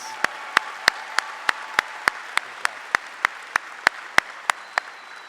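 Crowd applause at a high school graduation ceremony for the Class of 2025, a broad steady wash of clapping with some individual claps ringing out sharply at a regular rhythm above it.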